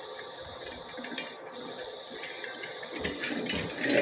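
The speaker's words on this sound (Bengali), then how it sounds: "তাওয়াটা পরিষ্কার করে ধুয়ে নিয়েছি।" Running tap water pours steadily over a tawa griddle being washed, a continuous close hiss that swells slightly louder toward the end.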